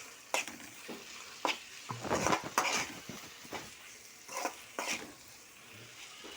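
Masala paste of ground coconut and poppy seeds frying in a pan with onions for a prawn, chicken and egg curry, giving a steady close sizzle broken by repeated stirring scrapes, with no talking.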